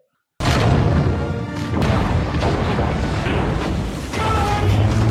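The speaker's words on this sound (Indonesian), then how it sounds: "tepat saat kapal itu melompat, tembakan rudal milik Joachim pun meleset." A loud, sustained roaring missile explosion in a film erupts suddenly and rumbles on with crashing debris, dense and powerful throughout.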